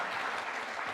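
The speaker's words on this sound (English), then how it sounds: "can we have a huge round of applause" An audience applauds for a corporate presentation, a dense steady wash of clapping for a brief moment, loud and full.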